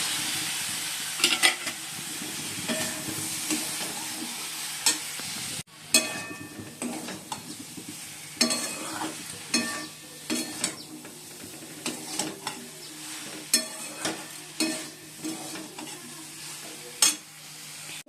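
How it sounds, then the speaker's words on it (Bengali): Soybean and potato curry masala being stir-fried in a pan, a soft sizzle beneath repeated clattering scrapes and knocks of a spatula stirring at irregular intervals, fairly close, with no speech. "আর এদিকে মশলাটা কষানো হচ্ছে।"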